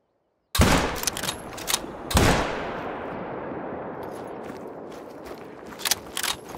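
Rifle shots at a mouflon in theHunter hunting game on the Cuatro Colinas reserve: two loud, sharp reports about a second and a half apart, each trailing into a long rolling echo, followed by faint clicks of reloading.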